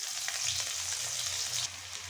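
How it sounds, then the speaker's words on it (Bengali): Chopped onion frying in fish-frying oil with black cumin and dried chilli, a faint, even sizzle with light stirring, easing slightly toward the end. "পেঁয়াজটাকে লাল লাল করে ভেজে নেব।"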